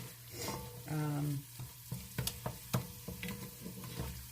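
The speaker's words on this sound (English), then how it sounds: "You basically just want to stir the tomato paste in with everything and give the tomato paste a few minutes to start cooking." Tomato paste sizzles in a pot of homemade gravy as a spoon stirs it, with a faint, soft frying hiss under scattered scraping knocks and clinks against the pot and a brief hum near the start.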